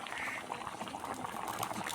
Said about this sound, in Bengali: দেখুন কত সুন্দর ঝোলের বলক আমাদের উঠে গেছে